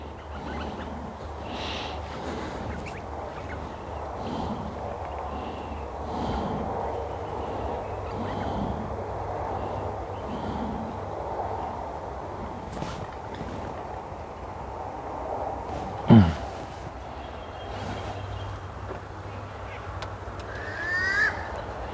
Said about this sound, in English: Now, what duck makes that noise?